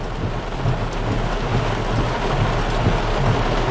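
Heavy thunderstorm with downpour and thunder amid falling tree limbs: a steady, dense roar of rain fills the scene, with low rolling rumbles of thunder swelling underneath, loud and continuous with no voices.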